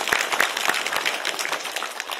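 An audience at a Shanghai Museum lecture gives a welcoming round of applause: individual sharp claps stand out near the start over a thick crowd patter that gradually thins toward the end.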